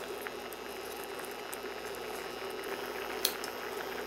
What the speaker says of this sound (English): now that the curry sauce has started to thicken up, I'm going to add in the fried fish